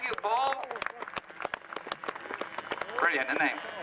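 An audience claps for Paul Eccles in scattered, uneven bursts, with someone talking loudly over the clapping the whole time.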